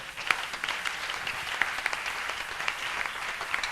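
A church congregation applauds the Lord during a prayer retreat day, a dense, steady wash of many hands clapping at once, loud and sustained throughout.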